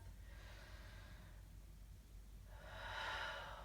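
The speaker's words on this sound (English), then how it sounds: "we're going to give this a deep inhale and a deep exhale" Slow, deep yoga breathing, a soft drawn-out breath followed by a pause and then a louder, airy exhale, close and quiet with low background rumble.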